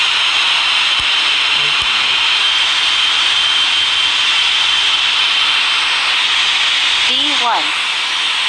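Boeing 777-300ER jet engines at full power during the takeoff roll at Palermo, Italy, a steady loud hissing roar heard from inside the cabin, with brief faint voices calling out near the end.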